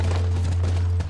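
Horse hooves clip-clopping in The Last of Us, a steady run of close hoofbeats over a constant low hum, briefly dipping at the end.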